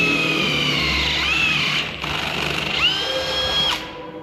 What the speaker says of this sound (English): Don't mind the drill.